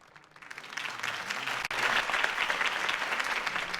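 Crowd applause after a campaign speech in the video game Batman The Telltale Series, a dense burst of clapping rising quickly and sustained, fairly close and steady.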